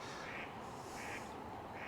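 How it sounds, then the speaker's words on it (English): Duck quacking outdoors, three faint evenly spaced quacks carried over steady broadband background noise. "That's a noisy duck."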